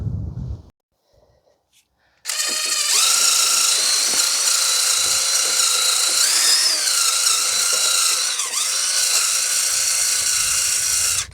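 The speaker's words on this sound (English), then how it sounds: "I'm just using a drill with a wire wheel attachment" A power drill with a wire wheel whines loudly and steadily for several seconds after a brief quiet pause, its pitch dipping as it bites into a brake caliper on a 2012 Toyota Corolla.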